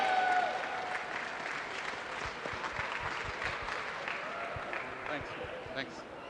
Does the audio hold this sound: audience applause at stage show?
yes